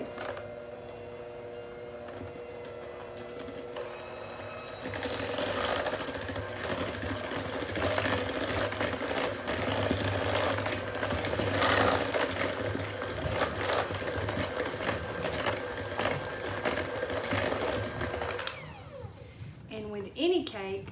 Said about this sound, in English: with our hand mixer on low, we are going to gently add in our wet ingredients to our dry